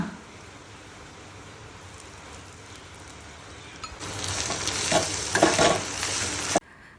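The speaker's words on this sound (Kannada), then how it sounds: "ಜೀರಿಗೆ ಕಾಳು ಮೆಣಸು ಹಾಕ್ಕೊಂಡು ಒಂದು ಅಲ್ಲ ಒಂದು ನಿಮಿಷ ಈ ರೀತಿ ಬಾಡಿಸ್ಕೊಳ್ಳೋಣ ಫ್ರೈ ಮಾಡ್ಕೊಳ್ಳೋಣ" Chilies fry with cumin and black pepper in a pan: a faint hiss swells into loud, crackling sizzling with stirring noise, then stops abruptly.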